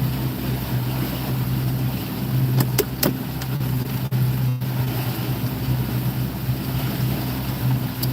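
Fishing boat engine running underway, a steady droning hum with wind and water rush and a few brief knocks, loud and close throughout.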